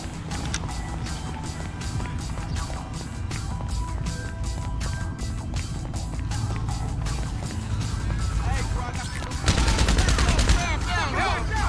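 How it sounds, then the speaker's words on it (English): Minigun fire in an online video game, a rapid, continuous stream of shots hammering away for most of the stretch, swelling louder and denser toward the end. "So that guy's got a minigun."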